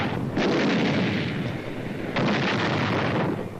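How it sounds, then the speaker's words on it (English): German long-range artillery guns shell across the English Channel in 1940, giving a dense, continuous roar of heavy fire with a sharp new burst midway, loud and close with no voices. "The long-range German guns were getting hot from throwing shells across the channel."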